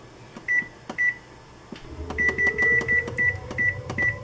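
Kitchen timer set for steeping tea to dye floss, giving two short beeps, then a run of eight rapid button beeps over a low running hum, close and clear.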